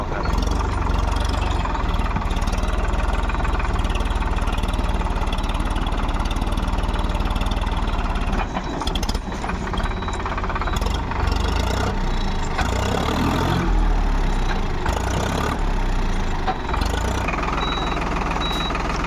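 A heavy 50 hp tractor engine roars continuously at high revs while stuck, loud and close, with brief dips and surges as the throttle is worked.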